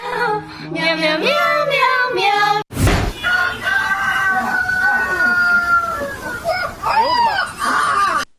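A rooster crows with a long, drawn-out call partway through, heard alongside a voice talking and some background music.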